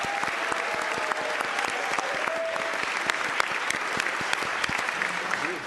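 Steady applause from a crowd at a Board of Supervisors meeting, dense clapping throughout with no pauses, fairly loud and close.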